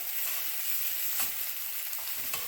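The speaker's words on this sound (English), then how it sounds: "Now we're going to brown this on all sides." Lamb chops browning in a hot pan over medium-high heat give a steady, close sizzle, broken by a couple of brief scraping bursts as the meat is moved.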